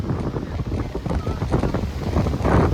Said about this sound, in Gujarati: ખતરનાક પવન આવે.